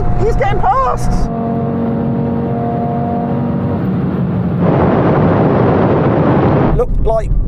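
A tuned Audi RS3 accelerates hard past in a drag race, a loud roaring engine climbing through gears with a sharp surge near the end, while people talk and exclaim excitedly over it.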